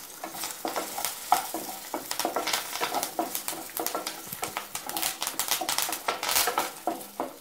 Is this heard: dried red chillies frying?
yes